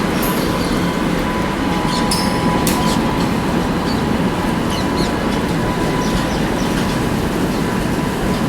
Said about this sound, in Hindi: ये आके लगी है SMVT बेंगलुरु हटिया एक्सप्रेस